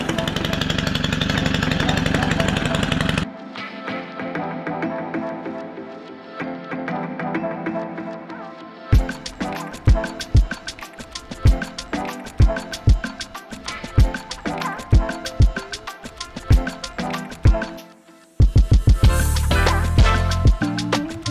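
A string trimmer cuts weeds on an urban hunting property, its small engine buzzing and revving in bursts with sharp rhythmic surges, loud and close, with a few moments of quieter idling.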